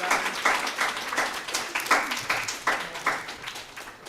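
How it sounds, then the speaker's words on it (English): Clapping at a school board meeting to honor a student receiving an award, a few hands giving loose, uneven bursts of claps that rise and fall, moderately close. "if we can give her a round of applause"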